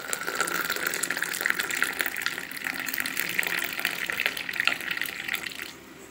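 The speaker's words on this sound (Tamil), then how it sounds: "இப்போ டீ ரெடி ஆயிடுச்சு. டம்ளரில் ஊற்றலாம்." Freshly made frothy tea poured into a tumbler, a continuous splashing liquid stream that runs steadily for about six seconds and then stops, with no talking.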